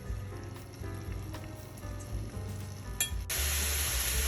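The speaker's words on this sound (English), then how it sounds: "I put the stems of the parsley just for a little bit, so they saute with the meat" Ground turkey sautéing with parsley stems in a pan, a close, low sizzle with occasional utensil clinks and stirring, the frying hiss growing louder and brighter toward the end.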